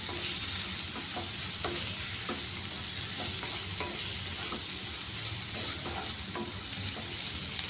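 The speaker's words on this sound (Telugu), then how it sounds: "వీటన్నిటిని బాగా వేయించుకోవాలి." Egg puff filling seasoned with salt and turmeric fries in a pan, with a steady loud sizzle and repeated scraping stir strokes throughout.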